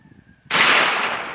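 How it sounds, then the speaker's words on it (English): A single sharp, very loud gunshot from a .22lr fired at a truck door, bursting out of near quiet with a faint hum beforehand, then a long, slowly fading roar. "I felt a burst of hot air when I shot it."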